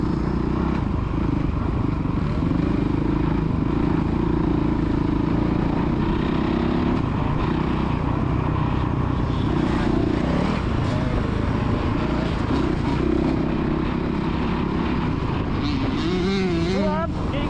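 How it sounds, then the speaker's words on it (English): A motocross bike ridden by a child on the Astley MX main track drones loudly and steadily, with a quick rev near the end and muffled voices underneath. "Right, rev it up now, rev it"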